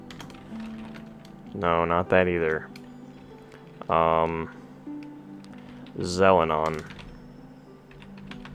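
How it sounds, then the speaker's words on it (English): Computer keyboard mashed, soft rapid key clacks running under a man's speech, which dominates in short bursts. "I'm just gonna mash the keyboard."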